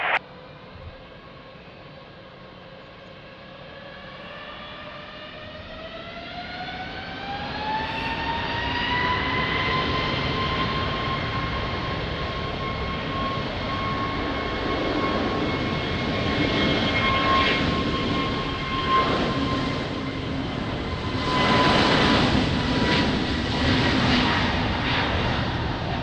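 A jet airliner takes off at Lisbon Airport in rain and wind, its engines spooling up from a rising whine into a loud, sustained roar that swells further and stays strong throughout.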